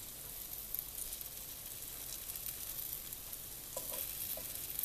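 Banana bread French toast fries in a cast iron pan, a steady, even sizzle with a few faint clinks of utensil on metal partway through, no voices.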